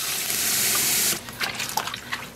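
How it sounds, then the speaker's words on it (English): Water pours steadily into a small cup of leftover acid during yarn dyeing, a continuous close gush for about a second before breaking into lighter splashes and trickles. "we're gonna add some water in"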